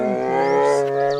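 Brown bear gives a single short, deep roar with a strong tonal growl, close and loud and lasting about a second.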